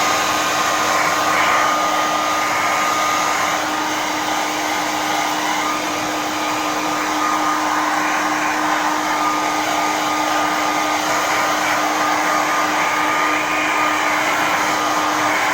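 A hair dryer drying paint on a leather chesterfield during restoration runs as a constant, loud, close drone with a steady whine, unbroken for the whole stretch.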